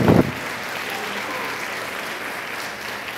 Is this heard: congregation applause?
yes